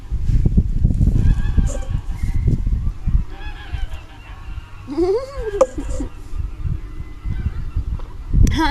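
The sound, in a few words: goose honking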